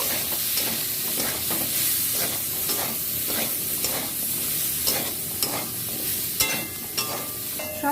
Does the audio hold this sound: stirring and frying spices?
yes